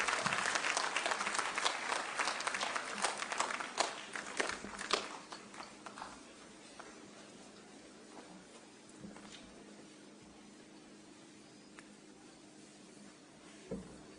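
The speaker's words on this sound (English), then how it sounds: "Let us all rise and welcome His Excellency with a clap." A large crowd at the Tangaza University graduation ceremony in Nairobi applauds loudly as a dignitary rises to speak. The dense clapping lasts about six seconds, then thins and fades to a quiet hall.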